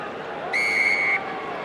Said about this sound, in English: The whistle goes